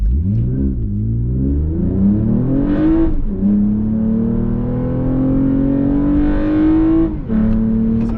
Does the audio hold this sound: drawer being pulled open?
no